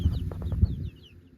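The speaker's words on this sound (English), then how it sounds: "So we got these baby chicks from our neighbor down the street" Three-week-old baby chicks cheep in a cluster, high thin peeps repeating close by over low clucking and shuffling, then fading quieter near the end.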